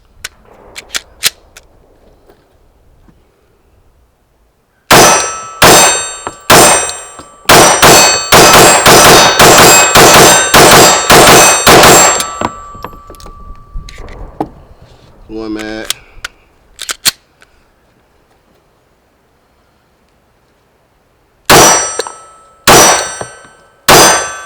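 Glock 45 pistol fitted with a Parker Mountain Machine compensator firing outdoors: loud, sharp shots in a slow string, then a rapid burst of about ten, a pause with handling clatter, and three more spaced shots near the end.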